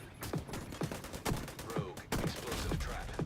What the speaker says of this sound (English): Oh, I got sniped from the side.